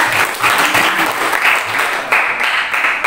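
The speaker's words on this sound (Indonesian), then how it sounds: "Tepuk tangan untuk si Ganteng ya." Classroom students clapping for a classmate during a biology lesson, a loud burst of hand claps in uneven waves from a small group, close and lively.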